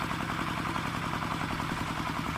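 A modified farm tractor fitted with an ET115 engine idles steadily, with a low, even clattering chug that runs continuously and fairly loud throughout, with no voices.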